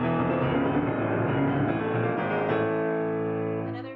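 Piano octaves from a piece rolling with rubato, a flexible, swelling tempo, rich and resonant, sustained throughout and fading away at the very end.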